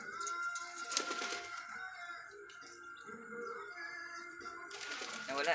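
Several birds call and coo over a steady background hum, with brief bursts of busier calling at the start and end.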